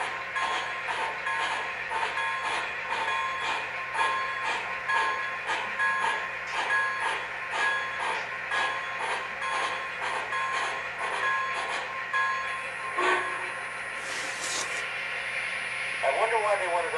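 An MTH HO scale Big Boy model train running with its onboard sound system, a steady rhythmic chuffing and mechanical clatter with radio-style chatter over it, close and continuous.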